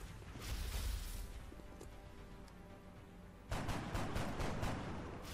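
A burst of rapid gunfire erupts partway through in the video game XCOM: Enemy Unknown, a quick volley of sharp shots over a constant noisy background, loud and close.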